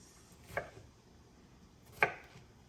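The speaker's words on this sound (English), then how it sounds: "you're going to take them and you're going to slice them again into small little pieces" Two sharp knife chops on a cutting board, about a second and a half apart, slicing salmon-meal ingredients into small pieces; close and fairly quiet with no talking.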